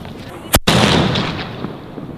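A sky rocket firecracker bursts with a sharp, loud bang followed by a crackling, hissing fizzle that slowly fades over a couple of seconds, heard outdoors during a festive firework session.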